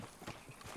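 Horse hooves clip-clopping in the Red Dead Redemption 2 video game: a short, faint, muffled run of hoofbeats, close by and heard alone.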